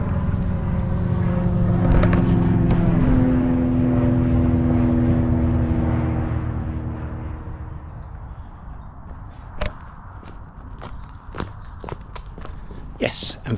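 A propeller airplane drones overhead on a calm countryside walk at Box Hill, loud at first and then fading away, while footsteps crunch along the path nearby and a voice speaks.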